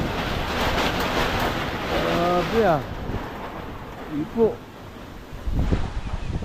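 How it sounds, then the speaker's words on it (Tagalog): Strong wind buffets the microphone with a steady roar, while people talk over it in short exclamations. "So grabe lakas ng hangin, no?"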